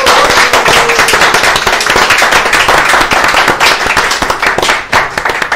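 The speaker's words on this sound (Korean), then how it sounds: "자, 박수로 문 열겠습니다." Studio audience clapping to open a Korean talk show, loud, dense and continuous with sharp individual claps throughout.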